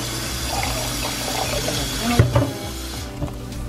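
Tap water running steadily into a sink while potatoes are washed with vinegar, with a few soft knocks and splashes as they are handled, close and moderately loud.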